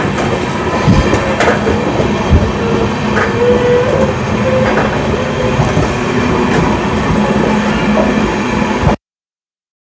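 The Humsafar Express rumbles steadily across the Kalinarayanpur bridge over the Churni river, a loud continuous roar with wheel clatter and faint squeals, ending abruptly in silence near the end.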